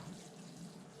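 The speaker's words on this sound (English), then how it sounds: "We will just now give it a bit of a water." Rainwater poured from a bottle onto a potted jade plant, a continuous steady splashing trickle of water heard up close for the whole second.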